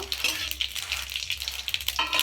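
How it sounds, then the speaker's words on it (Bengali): Whole cumin seeds temper in hot oil in a pan, a continuous close crackling sizzle with scattered pops and faint stirring scrapes throughout. "এইবারে আমি দিয়ে দেবো গোটা জিরে আর কারি পাতা ফোড়নে দিয়ে দেব"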